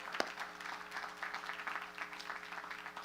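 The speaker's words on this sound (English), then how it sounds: "A big round of applause for all of them." A crowd at a college commencement ceremony applauds, soft and distant scattered clapping that holds steadily for a few seconds, with a faint hum underneath.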